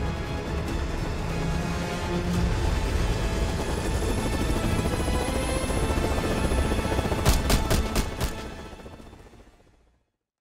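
A helicopter thrums steadily through a combat scene in the video game Call of Duty Black Ops 6, a dense continuous rotor and engine roar with a few sharp bursts, likely gunfire, near the end before fading out.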